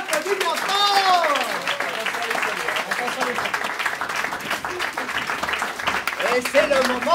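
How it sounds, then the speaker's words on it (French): Loud crowd applause at an improv comedy show in Paris, a dense sustained clapping wash filling the whole stretch, with voices and whoops rising over it from the audience. "On les applaudit bien fort."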